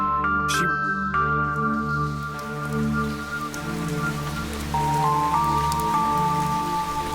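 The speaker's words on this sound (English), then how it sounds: "It was raining." Steady rain falls in the fantasy video game Fantasian Neo Dimension, a continuous wash of patter under sustained musical tones, moderately loud and unbroken throughout.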